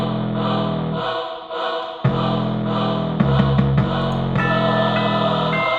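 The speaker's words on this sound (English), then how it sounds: "little distortion on the 808" Hip-hop beat with a lightly distorted 808 bass booming under sustained layered synth tones, dropping out briefly and returning with punchy hits, loud and alone.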